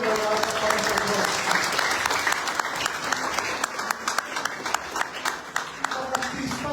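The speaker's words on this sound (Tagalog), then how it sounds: "Mas malakas sa palakpak po ang mga para sa Diyos." A church congregation applauds loudly, a dense wash of many hands clapping that continues steadily with individual claps poking through as it thins toward the end.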